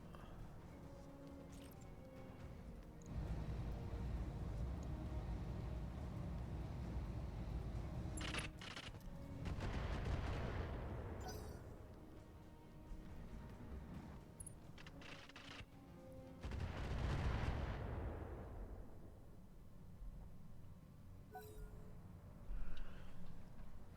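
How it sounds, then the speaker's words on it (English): Salvos of long-range missiles launched from a mech in Battletech with the Roguetech overhaul, heard as several loud whooshing, roaring bursts with rumbling tails spaced across the stretch, over a steady low battle drone. "I'm gonna hit him with LRMs for the stability damage"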